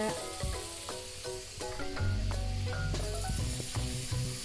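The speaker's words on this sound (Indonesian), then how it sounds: "Kita goreng bumbu sampai kering" Spice paste fries in hot oil with a steady crackling sizzle, close and continuous, with occasional scraping stirs and clinks.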